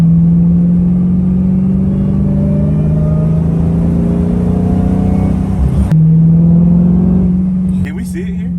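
Supercharged Dodge Hellcat engine pulling hard from inside the car, a loud steady drone with rising whine, a brief dip as a gear change hits, then the pull resumes before easing off.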